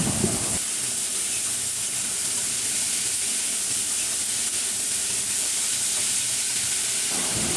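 Yardlong beans stir-frying over high heat in spiced oil, giving a steady, loud hiss of steam and sizzle that runs without a break from start to finish, with no talking.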